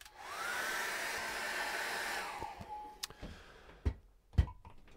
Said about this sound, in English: What I need to do now is dry that with a hairdryer